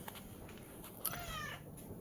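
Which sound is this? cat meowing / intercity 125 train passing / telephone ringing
cat meowing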